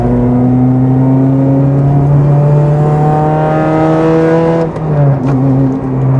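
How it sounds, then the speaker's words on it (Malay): A Honda Integra Type R DC5 engine screams at high RPM with a loud, sustained, rising tone, then drops sharply near the end as revs fall and climb again, heard close and alone without talk. "enjin yang responsif, enjin yang menjerit macam ni"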